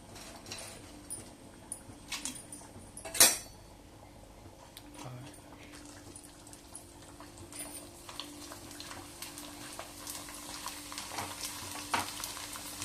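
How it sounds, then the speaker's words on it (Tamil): Appalam (papad) frying in hot oil after a carrot-beans stir-fry, with a faint continuous sizzle, occasional light scrapes and one sharp clink, close but quiet and without speech. "கொஞ்சோண்டு அப்பளம் பொரிச்சிக்கலாம்"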